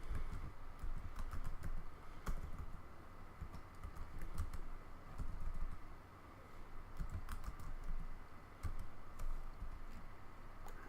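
Computer keyboard being typed on as a terminal command is entered, quiet irregular clicks and taps in short bursts with brief pauses, close and alone.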